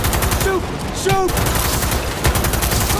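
Rapid gunfire in Cyberpunk 2077 rattles continuously during an escape, dense and loud throughout, with brief voice-like tones and a synthetic whine threaded through the barrage.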